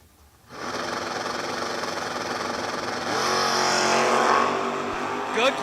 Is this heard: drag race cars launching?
yes